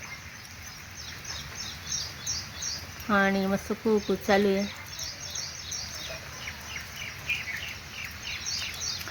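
Birds chirp and call around a branch where a pair of koels perch outdoors, with a short burst of loud, harmonic rooster-like calls in the middle, while someone talks softly nearby.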